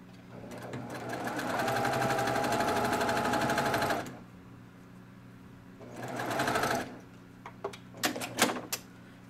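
A sewing machine stitches a quilt seam while piecing a table topper, running in rapid mechanical bursts: a long four-second run, a pause, a shorter run, then a few quick clicks and stops, close and alone.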